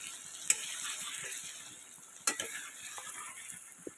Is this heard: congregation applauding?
no